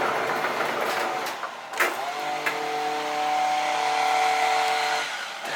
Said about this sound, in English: they decide to cut every lawn in my neighborhood